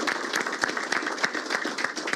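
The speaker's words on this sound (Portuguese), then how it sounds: "Uma salva de palmas para esse sindicato aqui" Moderate audience applause for a union at a São Paulo health forum, with individual claps standing out in a rough, steady rhythm.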